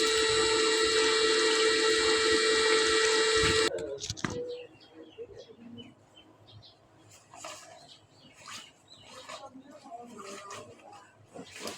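Water from a motor pump gushes loudly and steadily for a few seconds, then stops abruptly, leaving quiet outdoor ambience with a few bird chirps.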